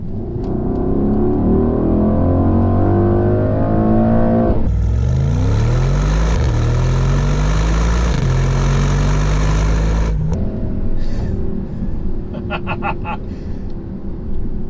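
A 2021 Mercedes-AMG GLE 63 S with a 4-liter twin-turbo V8 and mild hybrid system, loud and close as it accelerates through several rising gear pulls with shifts between them, then settles toward a quieter drone.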